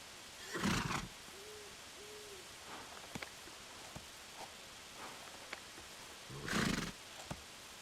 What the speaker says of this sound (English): we can hear additional horse sounds